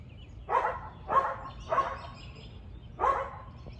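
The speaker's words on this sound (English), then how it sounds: "I just don't like the barking in my ear." A dog barks four times in an uneven rhythm, loud and close, each bark short and sharp with brief pauses between, over faint room noise and no talking.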